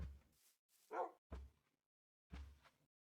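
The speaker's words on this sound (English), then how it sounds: "Oh, it's like a barking." A few quiet, muffled dog barks in Minecraft, spaced apart with silence between them, sounding distant and soft.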